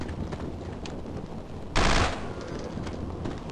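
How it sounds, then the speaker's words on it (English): A short burst of SMG fire in the horror game Afraid of Monsters, one loud dense volley lasting about a quarter second, standing out from a steady background hum. "I see the SMG here, but there's only 30 rounds in it."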